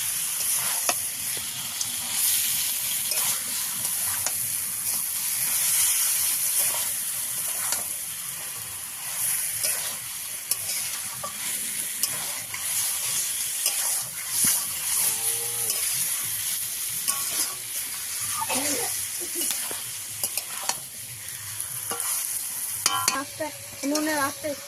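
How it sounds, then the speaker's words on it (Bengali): Chicken coated in ground spice paste is stirred in a hot pan for a country-style homemade curry, steady sizzling frying and scraping stirs running throughout at close range, with no talk. "এবার সম্পূর্ণ মশলাটা মাংসটা ভালো করে মিশিয়ে দেব।"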